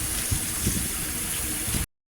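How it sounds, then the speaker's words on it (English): Tap water runs and gushes steadily while collard greens are washed in a kitchen, a close, continuous rush that stops abruptly near the end. "we just finished washing our greens"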